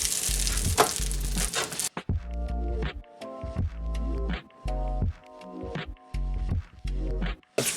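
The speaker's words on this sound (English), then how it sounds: "Step one, you're gonna need to brown some hamburger." Hamburger meat sizzles and spatters loudly in a frying pan for a cheeseburger bomb recipe, with a broad crackling burst at first, then repeated stirring and scraping pulses as the meat browns.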